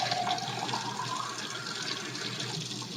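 Water is poured from a big glass into a soup pot with a steady, splashing rush that continues close by throughout.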